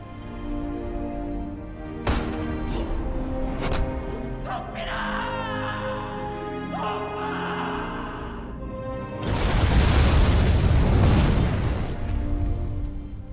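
A dynamite explosion erupts in a war setting, a deep roaring blast that swells and rumbles for several seconds, preceded by scattered sharp pops and bangs.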